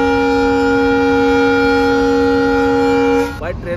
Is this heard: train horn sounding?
yes